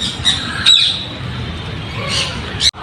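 Several rescued birds squawk and chirp loudly nearby from cages in a wildlife park, over a steady background din, with a few sharp calls standing out.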